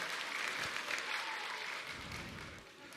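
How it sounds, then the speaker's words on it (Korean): Children clap together after a car is fixed, a continuous patter of many small hands that holds steady for a few seconds, fairly faint and a little distant. "자동차가 고쳐졌을 때는 박수를 치는 거예요"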